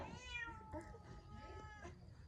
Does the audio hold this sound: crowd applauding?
no